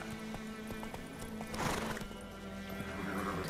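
In the video game The Witcher 3: The Wild Hunt, hooves clip-clop in a steady rhythm, then a horse gives a loud whinny midway, with the clopping continuing afterward.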